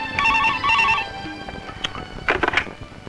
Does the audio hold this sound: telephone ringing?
yes